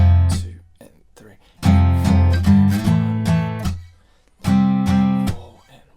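Chunky distorted guitar power chords strummed in short bursts with gaps between, loud and close, the riff pattern repeating three times.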